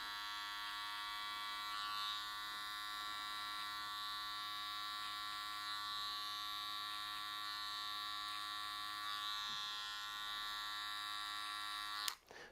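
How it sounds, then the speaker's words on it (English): An electric hair clipper buzzes steadily as it cuts hair over a comb during a two block haircut, a close, even motorized whine with faint strokes through the hair, ending in a sharp click as it switches off. "I'll use a little bit of clipper over comb"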